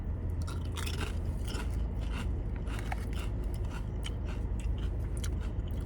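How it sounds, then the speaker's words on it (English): Seaweed-flavored Pringles chips bitten and chewed up close, with loud, dense crunching that keeps going for several seconds over a steady background hiss. "Tastes just like a Pringle. I don't really taste the seaweed."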